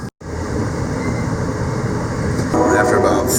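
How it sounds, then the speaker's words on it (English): Amtrak passenger train rolling along the rails, a steady loud rumble with rattling that swells slightly toward the end; voices may murmur faintly underneath. "I decided to take the Amtrak train down to Jacksonville"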